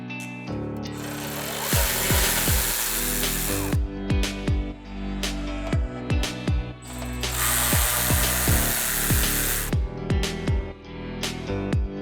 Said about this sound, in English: Using a 10mm socket, loosen these 2 bolts on your coolant lines.